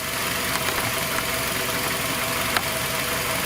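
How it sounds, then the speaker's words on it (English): Steady low rumble of a 2010 Nissan Altima engine idling nearby, even and continuous with a faint mechanical ticking. "Right now, the engine is idling."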